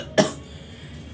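A voice imitates a cough that ends in vomiting: one short, harsh burst up close, then quiet.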